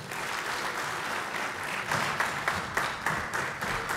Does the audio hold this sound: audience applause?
yes